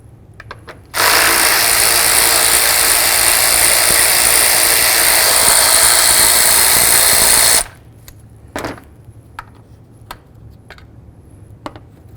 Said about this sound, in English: Next, we're going to remove our two 8mm mounting screws.